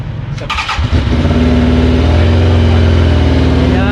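A Benda Dark Flag 500 motorcycle with stock exhaust cranks briefly and fires up, settling into a loud, steady idle with a deep throbbing exhaust note close by.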